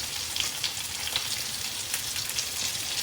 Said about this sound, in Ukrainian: приходиться печінку смажити в один слой на патерні чи сковорідці.